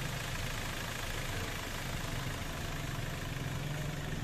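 Toyota Avanza engine idling steadily after its cracked cylinder head was replaced, a constant low rumble close by and fairly quiet, with no voices.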